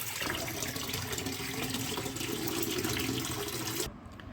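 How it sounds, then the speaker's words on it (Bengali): Raw mangoes are rinsed under running tap water in a sink, a steady loud gush and splash with small shifts as the fruit is handled, cutting off abruptly near the end to leave quiet. "ধুয়ে তুলে নিচ্ছি আমগুলো"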